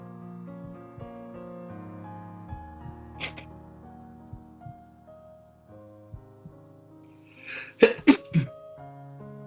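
A sneeze from a character in the To the Moon finale, a sharp burst near the end over soft background music, followed by two quick close bursts.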